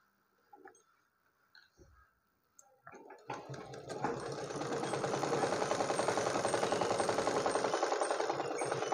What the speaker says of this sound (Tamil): இதை நம்ம எப்படி ஸ்டிச் பண்ணுறதுன்னு காட்டுறேன்